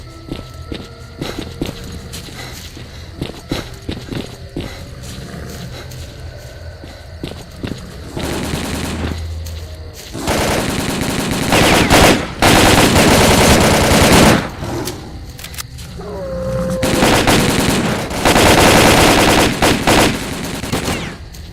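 Bursts of machine gun fire in the shooter game S.T.A.L.K.E.R.: Call of Pripyat, loud sustained volleys mixed with rapid footsteps and scattered single shots.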